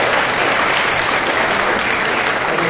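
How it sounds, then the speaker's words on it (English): An audience at a Philadelphia city press conference on a violence prevention plan claps steadily, a dense, even wash of applause from start to finish with no speech over it. "Let me give them a round of applause for their support."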